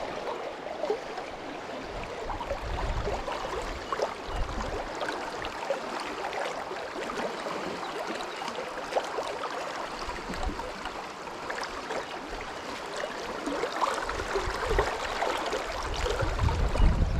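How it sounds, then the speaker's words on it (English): Water rolling and rushing steadily through a limestone stream, a continuous broadband wash heard close by at a moderate level, with no voices over it. "we got some rolling water here"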